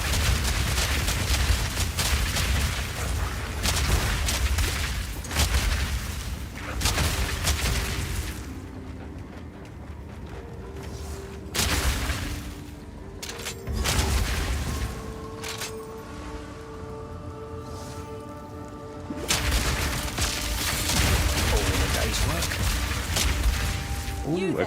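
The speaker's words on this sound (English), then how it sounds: "I do love a good explosion." Booming explosions and fusillade-like blasts from Path of Exile 2 gameplay, dense and loud in bursts across the stretch with a brief quieter lull, while a voice talks over the action.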